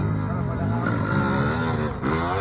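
A trail motorcycle engine revs hard and steadily on a muddy trail ride in Bulacan, loud and close, with a brief dip near the end while people shout over it.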